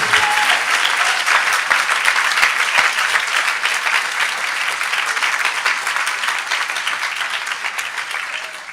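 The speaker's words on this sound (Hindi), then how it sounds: "कोई ताली बजा के प्रभु को धन्यवाद दे" A church congregation breaks into loud, sustained applause to thank God, dense clapping that fills the room without a break and fades slightly toward the end.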